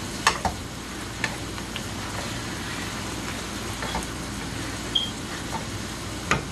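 Pepper steak sizzling steadily in a hot pan as it is flipped, with a constant frying hiss broken by occasional faint clicks and scrapes.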